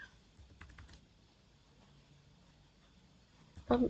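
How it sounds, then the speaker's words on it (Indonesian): A few soft keystrokes on a computer keyboard, faint and sparse in a quiet room, followed by a brief louder sound at the end. "Kita ketik sudo -r"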